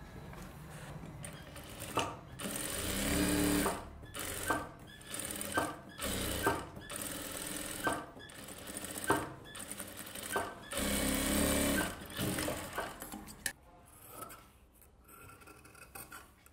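A sewing machine stitches a silk skirt and top for a one-year-old baby, running in repeated bursts of a few seconds with short pauses between, close and fairly loud, with no talk.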